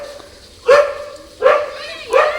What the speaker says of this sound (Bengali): আর কুকুরগুলো কেরম চেঁচাচ্ছে দেখো